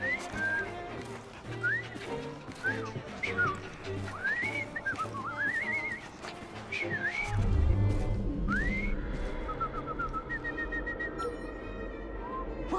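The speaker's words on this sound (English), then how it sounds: "I've just learned to whistle." Someone whistles a wavering, sliding tune over steady background music and low ambience in Assassin's Creed Syndicate, mid-loud throughout.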